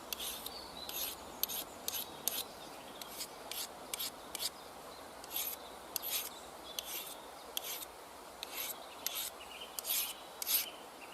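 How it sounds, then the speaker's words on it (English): A knife's secondary bevel being sharpened in the field on a handheld sharpener, a series of brisk rasping strokes in a steady back-and-forth rhythm, close and alone. "the easiest way to sharpen a secondary bevel or micro bevel in the field is one of these"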